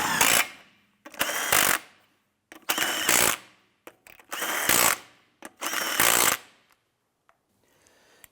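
Five bursts of a power tool snugging lug nuts onto a wheel of a 2005-2007 Ford 500, each roughly a second long with short gaps between, loud and close, then quiet at the end.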